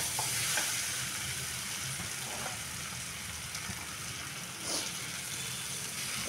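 Water poured into a frying spice mixture with fried potatoes and soya chunks, giving a steady sizzle and bubbling hiss with light stirring, a couple of brief splashes standing out, no talking.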